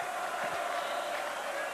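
Rugby supporters roar and cheer at Gloucester during a Heineken Cup match against Llanelli, a steady, dense crowd noise filling the whole moment without a break.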